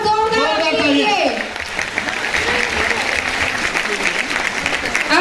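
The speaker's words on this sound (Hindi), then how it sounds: "तो तालियां बजा दीजिए एक बार जोरदार के लिए।" Audience applause at a Modicare seminar in Jawaharlal Nehru Stadium, a loud dense burst of clapping from a large crowd that follows a brief voice and continues steadily to the end.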